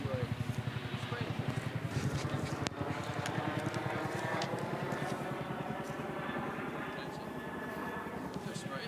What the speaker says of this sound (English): this was a military helicopter spraying something